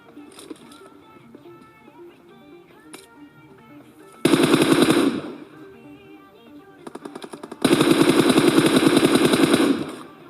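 Automatic gunfire from a battle royale shooter match, played solo against squads, rips out in two long, loud sustained bursts, the second lasting about two seconds, over quieter background game sounds in between.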